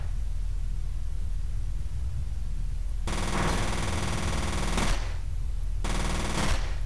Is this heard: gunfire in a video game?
yes